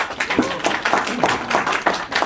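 An audience at a business presentation in a Gwanghwamun centre hall claps together in a steady, close round of applause that fills the moment without talk.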